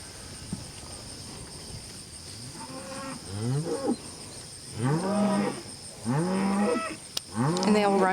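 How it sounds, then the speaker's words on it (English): Cattle being gathered in a pasture on a ranch raising red cattle: a run of loud, drawn-out moos and bellows from several animals, coming closer together toward the end over quiet outdoor background. "help them gather them cattle and get some pressure behind them"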